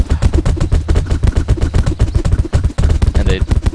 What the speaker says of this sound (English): my corn cannons are now shooting there at the zombies, and they will eventually die